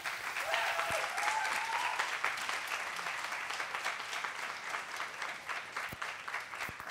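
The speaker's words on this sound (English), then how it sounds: "give her another round of applause" An audience at a drag show gives a performer a round of applause, dense and continuous clapping at moderate volume that slowly thins toward the end.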